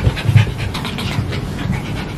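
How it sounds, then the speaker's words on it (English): A dog pants close by in quick, steady breaths, a little stronger at the start and continuing without break through the short stretch. No one speaks. "My dog won't say hello."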